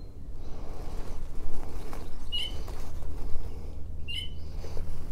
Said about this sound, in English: You can hear the starlings in the background as well.